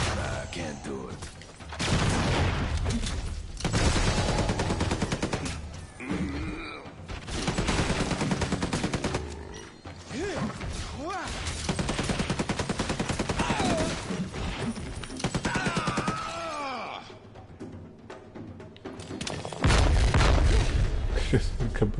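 Grenade explosions in the superhero action game Marvel Heroes Omega, heavy booms blended into a dense, continuous stream of gunfire, combat effects and music, loud throughout, with a voice speaking over parts of the fight.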